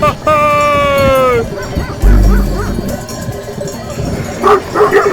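Several Kangal shepherd dogs guarding a flock bark loudly and repeatedly, deep barks mixed with a high whining yelp, close by and overlapping.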